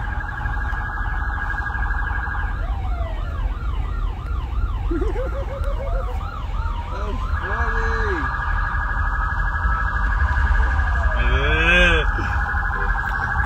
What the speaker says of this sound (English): I'm messing with the sirens.